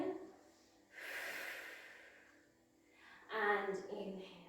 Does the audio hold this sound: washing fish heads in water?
no